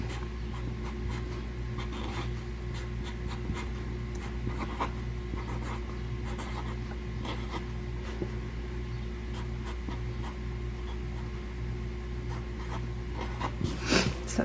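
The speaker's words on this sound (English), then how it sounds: "So I usually just take a Sharpie and I write it real big." Sharpie marker written in large strokes on a paper cash envelope, a steady close scratching and squeaking of felt tip on paper running throughout with a few louder strokes near the end, no voices.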